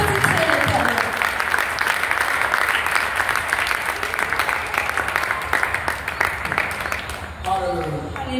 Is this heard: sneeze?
no